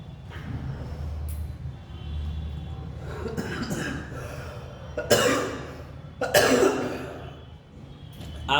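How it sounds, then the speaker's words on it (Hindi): Coughing from a man who is unwell, with bursts of harsh coughs near 5 and 6.5 seconds over low background noise, close to the microphone and not very loud, with no talk in between. "कभी कभार खांसी की आवाज़ आपके वीडियो में पढ़ाई को ये डिस्टर्ब करती है"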